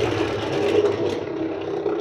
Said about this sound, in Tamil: பயங்கரமாக சுற்றுதே நம்ம மெட்டல் போல் லூசிஃபரு